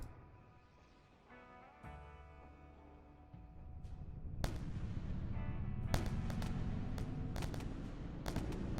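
Ship weapons in the space game Wayward Terran Frontier: Zero Falls open up on enemy vessels, sharp booming shots and rapid cracks over a rising rumble and droning hum, growing denser and louder toward the end, no speech.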